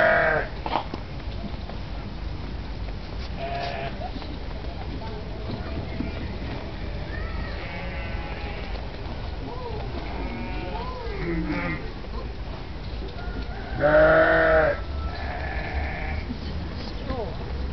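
Several sheep bleat on and off in a noisy outdoor setting, one loud cry near the end, with people talking in the background.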